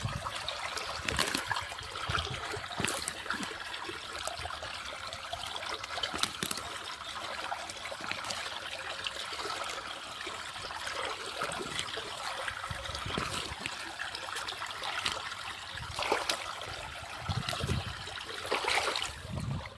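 Irrigation water trickles into a farm field, a continuous close wash of dribbling, gurgling flow with occasional louder splashes, steady throughout with no speech.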